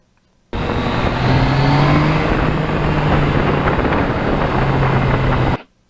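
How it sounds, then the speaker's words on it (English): Heavy roaring wind buffets the microphone while riding a Yamaha MT-09 naked motorcycle with no windshield, loud and continuous with the engine drone underneath, ending abruptly. "there's always extra wind noise."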